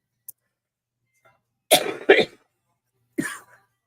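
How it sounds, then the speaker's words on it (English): A few dry coughs close to the microphone, two in quick succession and one more after a pause, with near silence around them. "Then maybe I can quit coughing."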